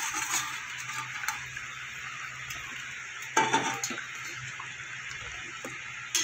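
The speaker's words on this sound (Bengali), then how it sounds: "এবার আমি দিয়ে দেবো ভেজে রাখা ডিম।" Fried eggs are set into a simmering masala gravy, a soft continuous sizzle and bubbling with a few clinks and a sharper knock of utensil against pan, close but fairly quiet, no talk.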